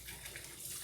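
Hot water runs from a tap in a steady, close, hissing stream, broadband and unbroken, with no talking over it.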